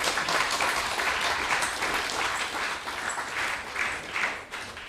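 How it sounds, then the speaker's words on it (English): A temple congregation claps in steady, dense applause that fills the space, holding fairly even before easing slightly near the end. "Let's give them a big round of applause,"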